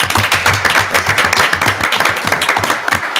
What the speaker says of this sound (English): Don't you think they deserve a round of applause?